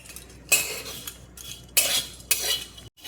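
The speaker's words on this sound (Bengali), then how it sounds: "এবার দেখো চিড়েটা আমি শুকনো কড়াইয়ের মধ্যে নেড়ে নেব।" Flattened rice (chira) stirred in a dry wok with a utensil, giving three loud bursts of scraping and rustling, close by, with quieter gaps between.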